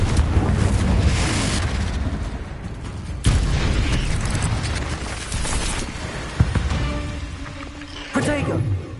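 A Confringo blasting spell in Hogwarts Legacy goes off as a loud, sudden boom amid dense, roaring combat noise, followed by rumbling and a few later whooshing bursts in a busy game soundscape.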